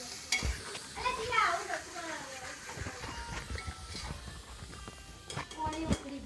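A dal tempering sizzles and crackles in a pan at home, with stirring scrapes throughout. People talk over the frying sounds.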